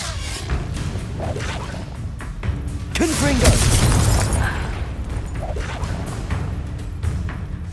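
Confringo fire-blast spell striking in the video game Hogwarts Legacy, a booming explosion with crackling bursts and whooshes that swells midway through a busy stretch of game effects.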